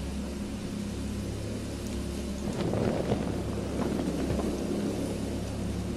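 Steady rain pours on a cliff top in the game Darkness Within, and a rumble of thunder swells midway before fading back into the hiss of rainfall.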